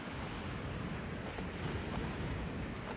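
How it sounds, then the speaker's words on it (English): Calm, still ocean water makes a steady broadband wash and hiss throughout, with a constant low rumble and no distinct breaking waves or voices. "today was the first day I got back in the ocean"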